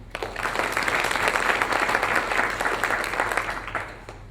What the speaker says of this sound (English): So they deserve a big round of applause.